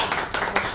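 A brief patter of applause at a school programme promotion event, with a few soft, overlapping claps rising in a short burst under a steady room hum.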